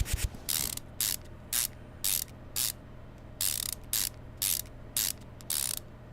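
Ratcheting wrench tightening wheel bolts after refitting brake pads and caliper in Car Mechanic Simulator 2015, heard as about ten short crisp bursts in a steady rhythm over a low background hum, with no talk.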